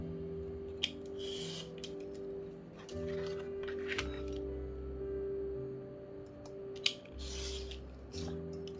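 Scissors cut through paper or card for a homemade tarot deck box, giving soft crisp snips and rubbing strokes, close and quiet, in several bursts.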